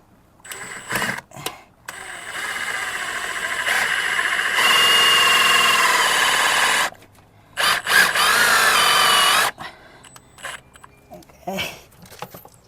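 A power drill drives screws while a retractable Phantom screen is installed on a single door, with several bursts of high whirring, two longer runs of a few seconds each, and short taps between them.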